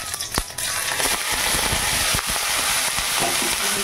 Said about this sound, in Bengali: ভেন্ডিগুলো দিয়ে দিচ্ছি।